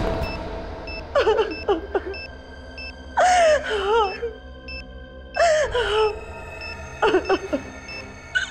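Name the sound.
person crying in a TV serial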